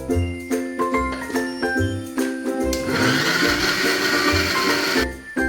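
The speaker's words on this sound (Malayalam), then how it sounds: "ഇനി ഇതേപോലെയുള്ള മിക്സി ജാറിലിട്ട്" A mixer grinder jar grinds jackfruit pieces for halwa, a loud, dense whirring burst that runs for about two seconds in the middle of the clip, after and before light chiming, clinking tones.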